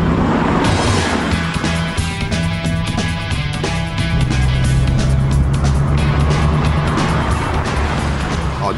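A DeLorean with a 2.8 litre V6 engine drives steadily, its low engine hum and road noise continuous and loud throughout, with a harmonic tone shifting slightly partway through.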